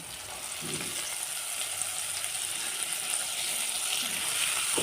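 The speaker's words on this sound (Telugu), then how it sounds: "పసుపు మిరపకాయలు వేగాక ఉల్లాకు వేసుకోవాలండి" Spring onions frying in a pan for a spring onion and tomato curry, with a steady, close sizzle and hiss that holds throughout, plus a few faint stirring clinks.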